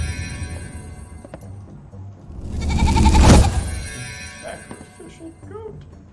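Goats bleat in the video game Wartile, with a dense burst of overlapping animal cries peaking midway over game ambience and music.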